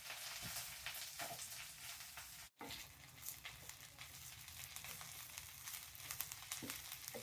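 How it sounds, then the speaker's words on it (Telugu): Curry leaves roasting in a kadai give a steady, soft sizzle and crackle throughout, with one brief dropout and faint stirring scrapes. "ఇది చక్కగా దోరగా వేయించుకోవాలి కరివేపాకు."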